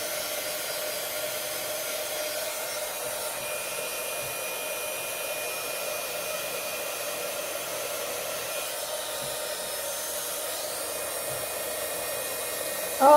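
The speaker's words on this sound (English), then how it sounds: "I'm just going to heat it up until it turns a nice bright white and melts all that" A heat gun blows a steady, even whoosh while melting embossing powder on a floral greeting card. It runs continuously at close range with no talking.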